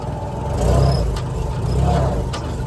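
A manual-transmission car's engine revs in low gear, a steady rising drone under the cabin with two brief swells in loudness, while a voice speaks faintly over it.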